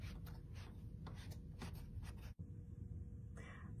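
Scissors snip through a bundle of yarn for a love bug craft, a steady run of soft rubbing cuts that pause briefly, then resume, close and quiet.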